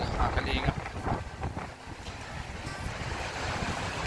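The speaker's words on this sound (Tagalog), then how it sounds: "sobrang hangin, malamig ang hangin" Strong cold wind buffets the microphone outdoors, a loud, gusting rumble and roar that rises and falls throughout, with voices talking underneath.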